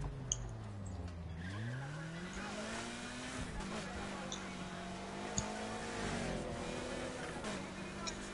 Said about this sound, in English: I just want to drift.